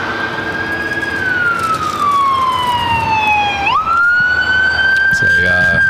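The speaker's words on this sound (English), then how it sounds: "ambulance down below us on Imperial Highway" An ambulance siren on a highway beside an airport wails, sweeping down in pitch, then jumping back up and holding, loud and steady over constant traffic and engine rumble.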